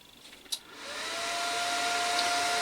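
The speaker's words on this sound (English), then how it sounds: "Okay, so let's just turn the welder on." A Lidl Parkside PTMI 180A1 inverter TIG welder switches on with a click, then its cooling fan spins up into a steady, loud whirring hum with a thin tonal whine.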